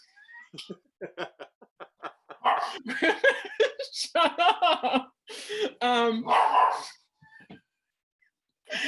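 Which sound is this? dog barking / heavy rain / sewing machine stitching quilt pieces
dog barking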